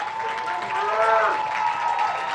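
Crowd at a college men's soccer match cheering a Bears scoring chance, a sustained roar of applause and voices at moderate distance, with a tonal whistle-like hum running through it.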